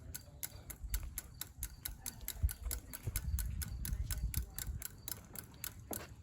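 A Honda HRC 216 gas lawn mower engine runs steadily with a fast, regular ticking clatter over a low rumble, moderately loud and close with no talk.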